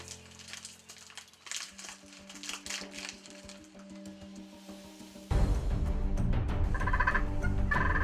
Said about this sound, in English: Me and Jimmy seen these turkeys strutting around this old abandoned house